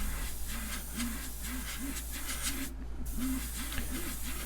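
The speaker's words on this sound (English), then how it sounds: "I'm just going to start real lightly, spraying it on there" A steady, soft hiss of an airbrush spraying blue paint lightly onto a fishing lure, continuous and fairly quiet, with a faint rhythmic low pulsing underneath and a momentary break partway through.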